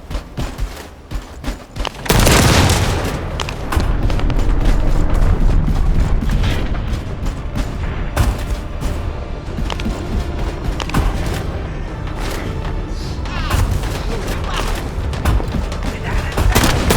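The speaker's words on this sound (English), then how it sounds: "That stopped the gunfire." Sustained gunfire and explosions in a shooter video game, dense booming rattles and blasts continuing nonstop and loud after a quieter opening stretch.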